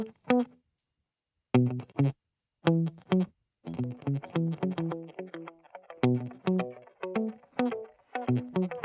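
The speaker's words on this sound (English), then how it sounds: "And we can turn the echo on and off here." Short plucked or struck musical notes run through a TfxEcho BBD delay effect on iOS, first as sparse separate hits and then as a denser run of repeating, trailing echoes, with no voices.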